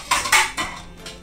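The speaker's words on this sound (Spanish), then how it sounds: "Lo tapamos y dejamos reposar un ratito antes de servir." Lid placed onto a pot of beef fricandó, a few quick close metallic clinks and clatters as it settles, then quiet.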